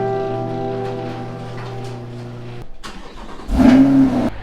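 A Chevrolet C8 Corvette engine drones at a steady idle, briefly dips, then surges into a loud, close rev near the end, with no talk.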